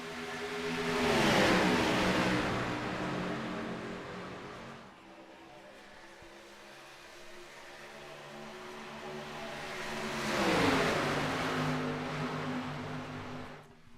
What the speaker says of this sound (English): lots of cars rolling here off pit road